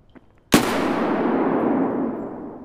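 A single loud, close gunshot from a weapon in the shooter Escape From Tarkov cracks sharply after a quiet moment, followed by a long, rumbling echo that slowly fades.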